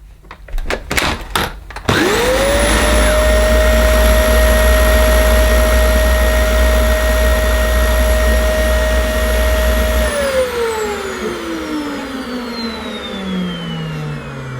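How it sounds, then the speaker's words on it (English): A Dyson DC25 upright vacuum cleaner with its brush roll motor switches on after a few handling knocks, running loud and steady close by for about eight seconds, then spinning down with a falling whine as it winds off. "we'll see if the brush roll motor works"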